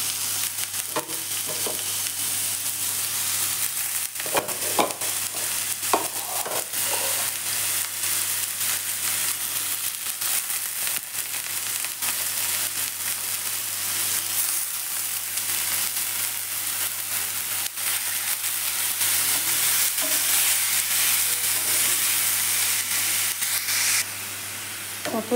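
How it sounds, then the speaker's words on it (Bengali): Bottle gourd frying in a little ghee gives off a loud, continuous hiss and sizzle, broken by occasional scraping stirs and a few sharper clinks from a spoon against the pan. "এবারে লাউটা আমি অল্প ঘিয়ে ভেজে নিচ্ছি।"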